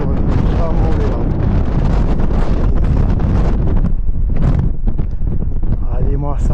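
Strong wind buffets the microphone outdoors in a loud, continuous roar with gusty surges, and voices can be faintly heard beneath it.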